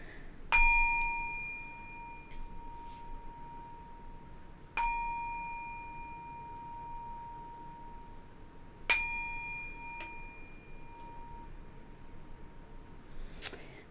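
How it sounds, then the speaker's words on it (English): A small bell struck three times at slow, even intervals, each clear ringing tone sustaining and fading over several seconds in a quiet room. "I'll be ringing the bell as well for some extra clearing."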